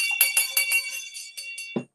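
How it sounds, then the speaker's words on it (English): A small hand bell rings in a quick run of about nine bright, clear strikes that fade slightly toward the end, close and alone, followed by a brief low thump. "First purchase, let me ring my bell."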